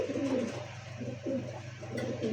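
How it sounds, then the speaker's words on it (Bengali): A khaki-necked pigeon at a pigeon market cooing in repeated soft, low rolling phrases, close by and clear, with no talk over it. "এটা যে আপনার খাকি গলা খয়রা গলা কবুতর"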